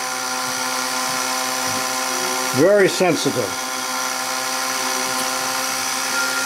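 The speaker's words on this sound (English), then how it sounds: "And boy, does that drill through fast." A brief whining burst of a sensitive drill press spinning up and cutting through soft brass, rising and falling in pitch, with low talk before and after under a steady background hum.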